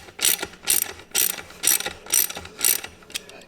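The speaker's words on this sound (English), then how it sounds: "So I usually just start with the hand ratchet." A hand ratchet clicks through six or seven quick, even strokes while tightening bolts on KMC XD231 beadlock wheels, each burst a crisp, close run of pawl clicks.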